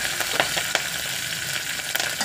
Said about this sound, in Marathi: आपली जिरे मोहरी चांगली कडलेली आहे, त्याच्यात टाकून घ्यायचा लसूण आणि कढीपत्ता